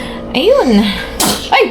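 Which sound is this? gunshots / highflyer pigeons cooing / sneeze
sneeze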